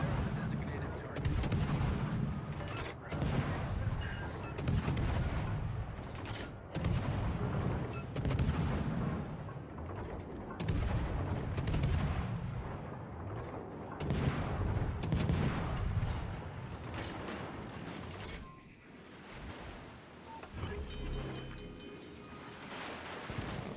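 Naval gunfire in the World of Warships Legends game on console, repeated heavy booming salvos with rumbling, wind-like roar between them, loud and continuous, with a voice talking now and then.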